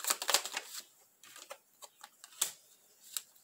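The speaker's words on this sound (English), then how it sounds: "I'm going to pull a couple of these cards." Tarot cards pulled one by one from a deck, giving a quiet run of crisp flicks, snaps and taps in irregular bursts with short pauses between, close by and with no talking.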